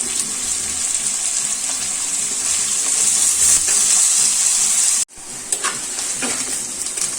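Curry leaves sauté and sizzle in hot oil in a pan for a Kerala dish, a steady loud frying hiss with stirring clatter, cutting out abruptly near the end before the sizzle resumes more faintly.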